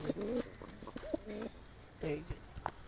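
Pigeons coo in short repeated bursts, close by, with people talking over and between the calls, at a market where pigeons are being sold.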